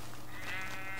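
A sheep in the Minecraft video game gives a single short, wavering bleat, heard close over a steady background hum.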